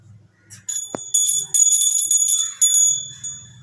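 A small hand bell rung during a household Tulsi puja, giving a bright metallic ringing that comes in repeated bursts near the mic, with a faint voice murmuring at the start and end.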